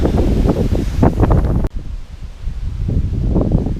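Wind blowing in bad weather outdoors where a bonfire is being built, gusting steadily against the microphone as a loud, buffeting rumble throughout, with a brief sharp drop in the middle.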